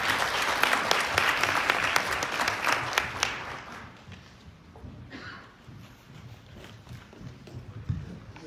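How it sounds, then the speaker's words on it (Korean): Audience applause at a Korean social welfare policy forum, welcoming a guest speaker to the front; dense, steady clapping for about four seconds, then thinning into scattered claps and room noise. "큰 박수로 환영해 주시기 바랍니다"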